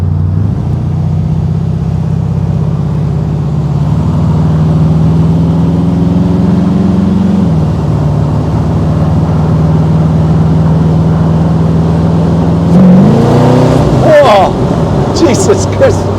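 A custom 1936 Ford Phaeton engine drones steadily while driving on the road, with a loud low hum that shifts through gears, then a brief louder rev near the end. Voices talk over it.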